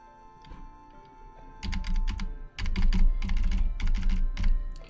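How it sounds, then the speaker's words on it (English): Computer keys clatter in quick, close bursts, with brief pauses between runs of typing. The sound is near and crisp over a quiet background hum, with no talk. "Keyboard ASMR chat. That's what we had then, and what we'll be having quite a bit this stream because we've got some keyboard stuff to do."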